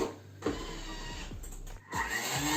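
A Thermomix motor whirs steadily at speed setting 10, blending an orange-lemon drink mixture with sugar, a continuous mechanical drone that briefly dips before picking up again.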